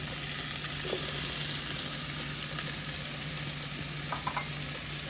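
Steady sizzling from tomatoes and shredded cabbage frying in a pan with pepper, a continuous close crackle with faint scrapes of stirring and no talking.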